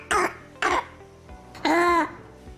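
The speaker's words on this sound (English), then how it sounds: "Barking type of cough is found in epiglottal involvement," Three harsh, barking coughs, two short bursts followed by a longer rasping one with a strained vocal tone, close and loud with brief pauses between.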